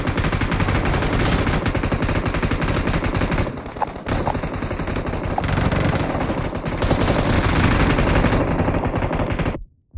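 Sustained automatic fire from an M249 machine gun in a video game, a loud, dense stream of rapid shots that runs almost unbroken for nearly ten seconds, with one brief dip partway through, before cutting off abruptly.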